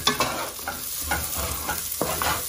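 Rice for an American-style rice dish stirred and fried in a pan: a steady close sizzle broken by repeated scraping strokes of the utensil, several sharper scrapes near the end, with no talking.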